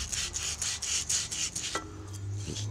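Emery cloth rubbed back and forth on a Craftsman riding mower shaft, a rhythmic close rasping scrub of about eight strokes, then a brief clunk and quieter handling.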